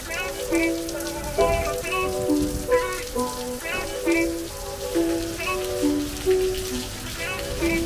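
Rain patters on a surface during a rainy day in Florida, a close, uneven crackle. Melodic tones sound over the rain throughout.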